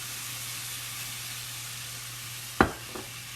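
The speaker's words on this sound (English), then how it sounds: "I'm going to hit the pan with some of the white wine." A hot pan of mushrooms hisses steadily, then white wine hits it with one sharp, loud sizzling burst that quickly fades back to a simmering hiss, with no one talking.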